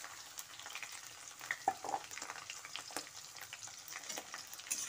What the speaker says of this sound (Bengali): রসুন ও কাঁচা লঙ্কাটা দিয়ে কিছুক্ষণ ভেজে নেওয়ার পর এর মধ্যে দিয়ে দিচ্ছি একটা বড় সাইজের কুচনো পেঁয়াজ